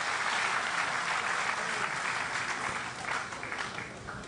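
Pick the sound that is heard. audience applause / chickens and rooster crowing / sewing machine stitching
audience applause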